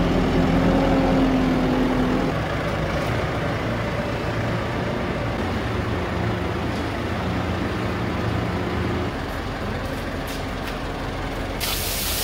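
A John Deere 6100M tractor engine runs with a steady, broad rumble and hiss that stays level for about twelve seconds. A faint tonal whine shows early on, and no one talks.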